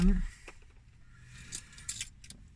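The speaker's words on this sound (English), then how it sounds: "Helps if I take my keys out" Car keys jangling briefly at the start, a short metallic rattle followed by faint shuffling and car cabin hum during a morning commute.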